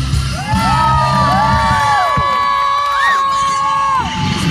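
A crowd at a 2013 State Fair of Texas BMX stunt demo cheers and whoops loudly and continuously, with high children's shouts rising and falling over the din.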